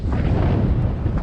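A strong headwind buffets the microphone of a rider on a road route, producing a loud, close, continuous low-frequency rumble and roar that covers the whole short stretch.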